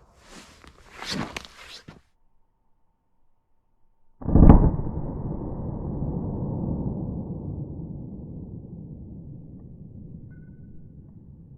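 A single sharp, loud gunshot from a short-barrel pistol firing 230 grain .45 ACP, close up, followed by a long decaying outdoor echo; faint rustling precedes the shot.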